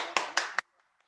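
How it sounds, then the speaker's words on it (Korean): Audience at a church ministry seminar clapping to welcome a lecturer: three sharp, distinct claps at an even pace, close and clear, followed by near silence with a couple of faint taps. "큰 박수로 환영하도록 하겠습니다."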